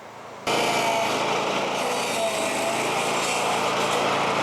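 A stump grinder weighing 200 to 300 pounds chewing out a cedar tree stump, starting abruptly into a loud, constant, close engine roar with a gritty cutting hiss.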